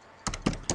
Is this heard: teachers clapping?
no